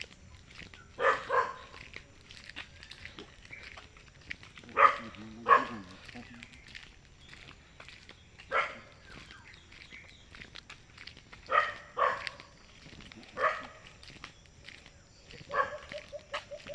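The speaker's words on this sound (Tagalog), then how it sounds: "May aso rin." A dog barks in short bursts at intervals, a few moderately distant woofs, with soft outdoor background and occasional footsteps.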